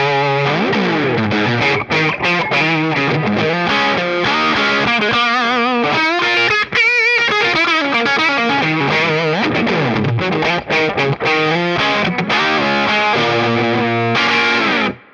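Distorted electric guitar through the bridge pickup of a 2022 Yamaha Revstar Professional, played loud and close with busy riffing and sustained chords, a brash, bright tone throughout with a brief effects-laden passage, no voices.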